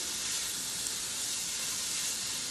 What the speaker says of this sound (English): whenever I add the veggies to this, I like to get this sauteed just to a point to where it's starting to open up that vegetable